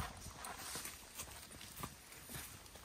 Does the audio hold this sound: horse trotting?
yes